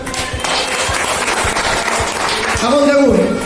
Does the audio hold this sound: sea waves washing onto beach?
no